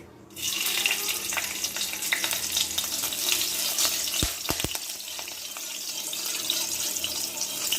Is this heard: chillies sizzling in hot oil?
yes